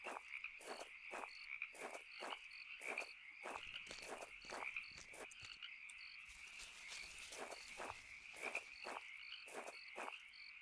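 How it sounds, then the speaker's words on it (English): Frogs croaking in the video game Home, a quiet, regular series of short raspy croaks repeating about twice a second over a faint background, with a brief irregular stretch partway through. "But then there's also frogs."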